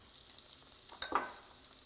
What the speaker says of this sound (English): So I'm going to actually seal the other side.